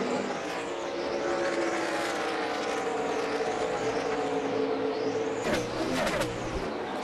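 NASCAR stock cars roar around the high-banked Dover oval on the last lap of a 2012 race, a constant loud engine drone with repeated whooshing pass-bys, no talk over it.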